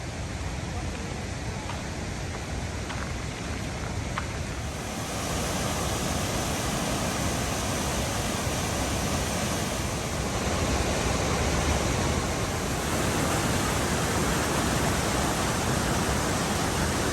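Hidden Falls in Grand Teton National Park roars as a steady, broad rush of falling water, loud and unbroken, with no other clear sounds standing out.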